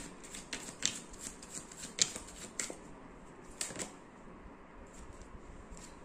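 Tarot cards being shuffled up close, with several quick riffling bursts in the first few seconds, then quieter handling and soft card noise.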